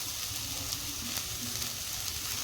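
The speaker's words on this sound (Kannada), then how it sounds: "ಈಗ ಈ ಥರ ಸ್ವಲ್ಪ ಎಣ್ಣೆ ಹಾಕಿ ಹುರ್ಕೊಳ್ಳೋಣ್ರಿ" Radish pods frying in a little oil in a pan, a dense, even sizzle heard close, with no voices.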